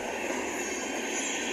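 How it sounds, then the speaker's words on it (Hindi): Steady broadband rush of a fast-running express train at about 130 km/h, heard close and loud, with the Sealdah Rajdhani overtaking on a parallel track; continuous rolling noise with no voices. "Sealdah Rajdhani parallel overtaking"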